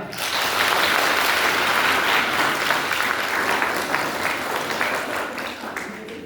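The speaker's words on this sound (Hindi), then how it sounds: "एक बार अपने लिए जोरदार तालियां" Loud, energetic applause from a hall full of new undergraduate students at an induction programme, a thick continuous roar of clapping that swells quickly and stays strong throughout, with some voices mixed in.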